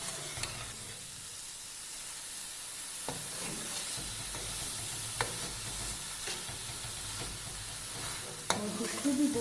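Grated carrot halwa stir-fried in ghee, a continuous soft sizzle and hiss broken by occasional scrapes and taps of a spoon against the pan, with a louder clatter near the end.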